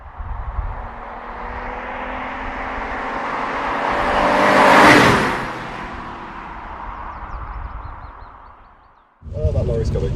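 An Alfa Romeo 166 with a 3-litre V6 drives along on a wet road, its engine note building into a loud whooshing pass-by that peaks and fades, then a voice starts talking near the end.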